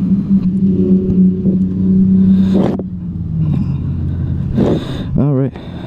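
A 2016 Suzuki GSX-R1000 motorcycle engine runs at a steady, close, loud idle rumble, then rises into a brief rev near the end, with people talking over it.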